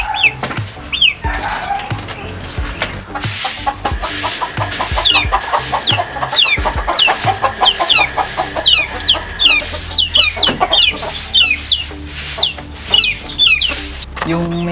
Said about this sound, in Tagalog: asikasun ko na muna itong mga alaga kong manok